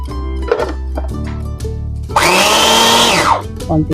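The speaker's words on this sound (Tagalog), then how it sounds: "So, gagamit talaga kayo ng blender." A kitchen blender purees homemade baby food for a six-month-old, with lower churning at first and then a loud, sustained high whir that rises in pitch and cuts off after about a second.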